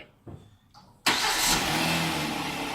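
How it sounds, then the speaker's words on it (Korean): A Kia All New K7 car engine starting: a couple of brief cranking bursts, then the engine catches with a loud sudden rise and settles into a steady close idle with no talking. "자, 시동 한번 걸어보세요."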